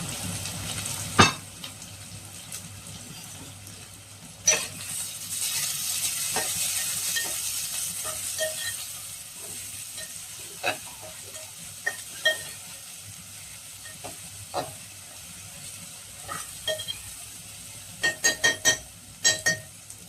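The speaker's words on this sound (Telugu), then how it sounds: "వేసాక బాగా వేగనిద్దాం." Vegetables and onions sizzle in a pan for mixed vegetable curry, a steady soft frying hiss broken by the sharp scrapes and clinks of a spoon stirring against the pan.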